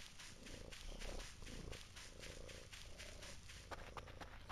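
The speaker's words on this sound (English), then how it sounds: "kitty cat." Continuous low purr of a cat in the Voices of the Void video game, a steady rumbling texture with faint game ambience in the background, fairly quiet and close.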